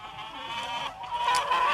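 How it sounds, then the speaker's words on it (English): A short burst of chicken clucking plays during a live stream, a few overlapping hen calls rising in loudness toward the end. "That's when the chickens should come in."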